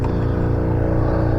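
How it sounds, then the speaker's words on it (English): A small air compressor runs nearby with a loud, steady motor drone, heard alone in a garage working on a 1977 Chevy Luv. "excuse the noise of that little compressor"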